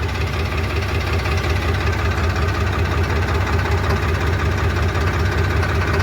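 A generator engine in a paddy field drones loudly and continuously, with a steady low knocking rumble and no pauses.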